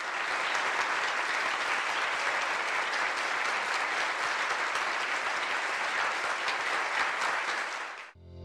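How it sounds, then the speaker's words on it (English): Sustained, dense audience applause at a business summit, loud and continuous for about eight seconds before cutting off abruptly. "Ladies and gentlemen, round of applause for Kami Vishwanathan."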